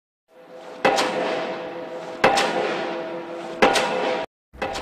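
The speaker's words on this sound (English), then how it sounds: "driving those 160-foot steel beams into the Cuyahoga Valley sounds something like this" A pile driver pounds 160-foot steel beams into the Cuyahoga Valley for a bridge pier, three heavy evenly spaced impacts, each ringing out with a long metallic decay, loud and alone.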